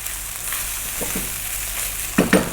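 Steady sizzling of rice frying in a pan for napa cabbage fried rice, with a couple of louder stirring scrapes near the end.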